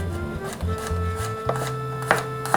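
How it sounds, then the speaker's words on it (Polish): A knife taps lightly on a cutting board in a few quick, uneven chops of garlic, close by over a faint steady hum. "Teraz czosnek sobie leciutko przesiekam"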